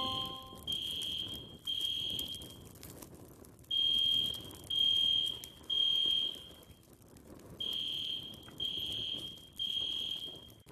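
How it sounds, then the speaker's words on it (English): A fire alarm in a hospital sounds in loud repeated bursts, three pulses at a time, each a shrill tone, with short pauses between groups. "I'll raise the alarm."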